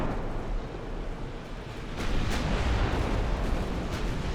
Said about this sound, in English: that heavy cruiser has fired off a salvo